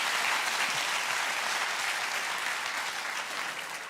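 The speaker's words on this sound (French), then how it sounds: "Ah vas-y, allez, applaudissez, vas-y." An audience at a France's Got Talent audition breaks into loud, continuous clapping that holds strong and then tapers slightly toward the end of four seconds, with no speech over it.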